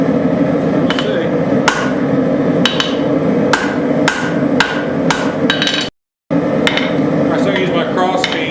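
Repeated loud hammer blows ring out on dug-up scrap metal being forged, at an uneven pace, sharp metallic strikes over a steady background hum, with one brief silent gap.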